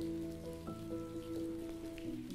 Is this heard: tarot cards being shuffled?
no